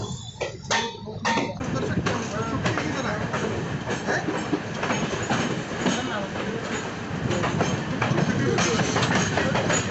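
The Mussoorie Express running from Delhi toward Haridwar, heard from on board as a continuous rumble of rolling wheels with rhythmic rail clicks and occasional bangs, with faint voices now and then.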